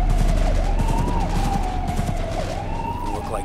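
Cyberpunk 2077 gunfire rattles in short close bursts beneath a wailing police siren that rises and falls, against a loud, busy backdrop of game noise.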